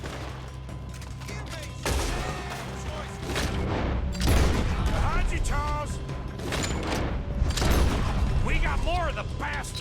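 Shootout in Red Dead Redemption 2 with repeated gunshots cracking out irregularly amid mechanical clatter and shouted voices, loud and close, gunfire bunching into heavier bursts partway through.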